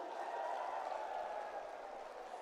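A large crowd at an India Alliance political rally at Ramleela Maidan applauds in a steady, distant wash of clapping that holds evenly throughout.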